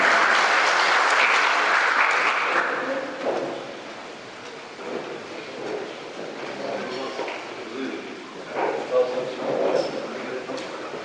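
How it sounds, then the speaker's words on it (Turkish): A crowd at a political campaign rally in Mersin claps loudly at first, then thins into scattered claps while someone speaks over it. "İşte şimdi coşkulu alkışlarınızla, çok kuvvetli alkışlarınızla"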